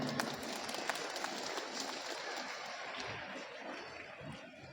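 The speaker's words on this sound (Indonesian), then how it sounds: "Tepuk tangan untuk orang Kalimantan." An audience at an Indonesian religious talk applauds in a dense, steady wash of clapping that holds at an even, moderate level throughout without any speech over it.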